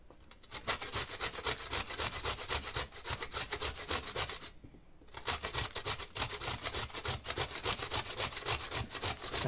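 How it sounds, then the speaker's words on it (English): Carrot being grated by hand for a vegetable stew, rapid rhythmic rasping strokes, close and loud, with one brief pause midway before the scraping resumes. "I like to grate the carrot."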